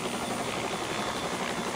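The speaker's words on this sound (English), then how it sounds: "I'm looking at the helicopter moving" A helicopter in flight during a training lesson fills the cabin with a steady, loud, dense rotor and engine roar that holds throughout without a break.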